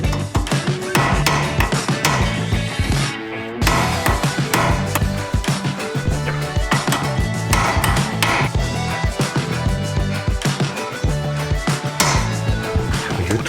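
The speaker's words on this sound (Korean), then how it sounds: "망치로 때려보자" A hammer bangs on an undercarriage part of a ten-year-old used car, striking fast and repeatedly with loud, close metallic clangs and a short pause near the start.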